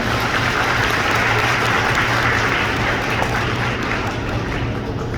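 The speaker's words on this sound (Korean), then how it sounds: "다시 한 번 큰 박수를 부탁드리겠습니다" An audience in a high school auditorium applauds at a graduation ceremony, a dense, loud, sustained wash of many hands clapping evenly throughout.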